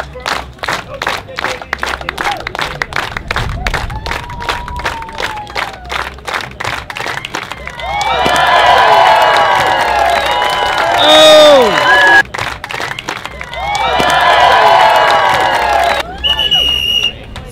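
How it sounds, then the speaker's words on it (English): A crowd at a street performance claps in rhythm, sharp steady beats at first, then bursts into loud cheering and excited shouts that swell, dip and rise again amid the clapping. "Everybody clap for me."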